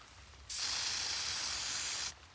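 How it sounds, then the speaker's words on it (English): An aerosol spray paint can lets out a single steady hiss outdoors in the rain, lasting about a second and a half before cutting off sharply, with nothing else prominent. "Spray paint."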